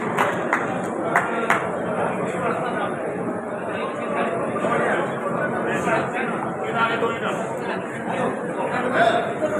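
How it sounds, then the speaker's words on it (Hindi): An audience at an open-air community gathering in Runicha Ramdevra, Rajasthan, gives continuous loud applause. Dense clapping mixes with crowd chatter and a few sharp claps stand out. "एक बार जोरदार तालियां दोबारा बजाएं"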